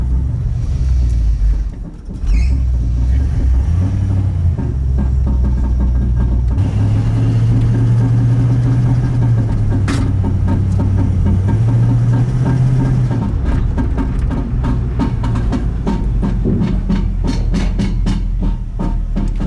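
A junkyard Bullnose Ford truck, converted from EFI to a carburetor and running touchy with an accelerator pump needing adjustment, rumbles loudly and close, its idle swelling into a sustained rev before dropping back to a rough, throbbing idle.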